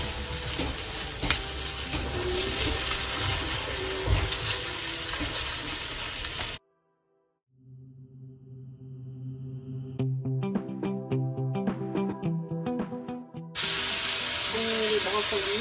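Mushrooms drop into a hot frying pan for a chicken cashew dish with cranberry sauce, giving a loud steady sizzle, a brief cutoff, then gentler crackling and spitting before the strong frying hiss returns.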